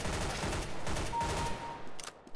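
Gunfire in a CS:GO bot match, a dense rattling fusillade of rapid shots at steady loudness that breaks off into a few scattered bursts near the end, with no talk.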